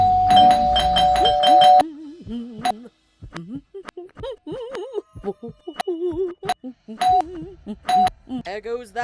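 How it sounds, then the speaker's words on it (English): Doorbell in the Scary Teacher 3D video game rings loudly in a rapid run of repeated chimes at the start, then sounds again in brief single rings between stretches of talking. "There goes that stupid bell again."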